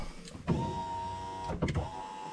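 2011 Ford Expedition power window regulator motor running alone, a quiet whirring hum sustained for about a second between two bursts of clunks as the mechanism starts and stops.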